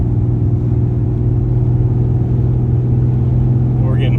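A heavy truck producing about 1,400 pound-feet of torque pulls hard on a highway, a loud steady low engine drone with a droning hum throughout and a brief rising whine at the end.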